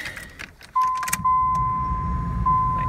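A 1993 Chevy Lumina APV with the 3800 V6 being started after an oil and filter change in a garage: keys rattle and a chime sounds, then a brief crank and the engine catches into a steady, close idle.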